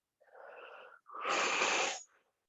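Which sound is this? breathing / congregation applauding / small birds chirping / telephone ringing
breathing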